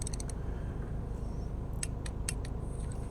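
Sharp little plastic clicks, a few at the start and a cluster later, as a part snaps into place during spark plug replacement on a 2017 Toyota RAV4 2.5, heard over a low steady background hum.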